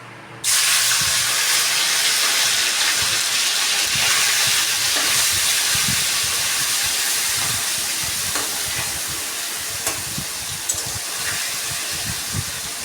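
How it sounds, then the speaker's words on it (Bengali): Kachki fish frying in oil in a kadai, a loud, steady broadband sizzle that starts abruptly and holds throughout with occasional crackles and pops. "মাছটাকে একটু হালকা করে ভেজে নিতে হবে"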